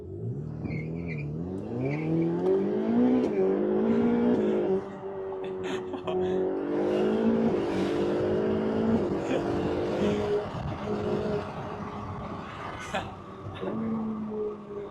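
Ferrari sports car accelerating hard on a public road, engine note climbing through rising revs with gear changes and brief dips, loud and close from inside the car, with people talking over it.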